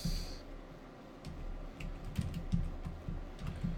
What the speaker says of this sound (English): And type the word disclosures